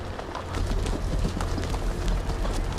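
Horses in the Game of Thrones video game clip-clop steadily over the ground, a fast run of close hoofbeats layered over a loud, busy background.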